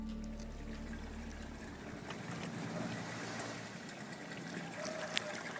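Water wells up and trickles steadily from broken underground water lines beneath cracked, shifting pavement, making a constant rushing, bubbling wash at moderate loudness, with no one speaking.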